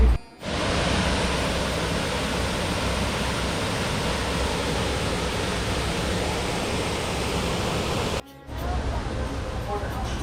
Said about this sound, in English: You can see the waterfalls.